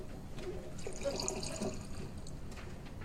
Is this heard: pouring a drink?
yes